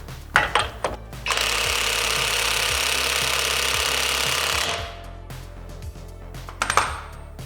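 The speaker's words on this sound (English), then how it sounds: "So I'm just going to use the nut and tighten it, and that way we can get it through." Axle nut on an Infiniti G37 being tightened to draw a new axle through, heard as a loud continuous rattling burst of about three and a half seconds, with sharp metallic clanks before and after.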